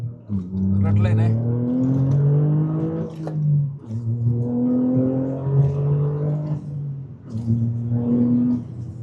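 A Toyota GR Corolla with its muffler deleted revs hard toward redline in repeated rising pulls, a loud, raspy exhaust climbing in pitch, dropping back and climbing again.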